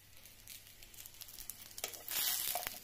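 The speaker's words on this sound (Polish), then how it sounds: "Jak widzicie, skwiercząca cebula jest naprawdę mocno przypieczona." Onion pieces sizzle and fry in a pan, browned hard for chicken broth, a crackling hiss with light stirring that grows louder near the end, close up and without talk.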